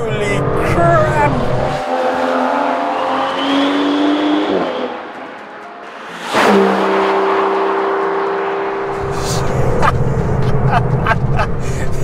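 A twin-turbo V12 Aston Martin DBS Superleggera in sport mode accelerates hard on a German road, the engine note climbing through gears, dropping away for a moment, then surging again while someone speaks over it.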